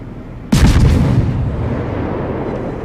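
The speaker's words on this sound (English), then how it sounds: "Wandering is so kind to fire some high explosive spam fire right onto that" High-explosive naval gunfire in World of Warships, one sudden heavy booming salvo with a sharp crack and rolling low rumble that decays into a sustained roar.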